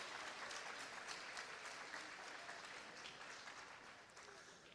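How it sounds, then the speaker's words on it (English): Sustained applause from a graduation ceremony audience at Riverside Academy, a dense, steady wash of clapping that holds for several seconds and tapers slightly at the end. "Big round of applause."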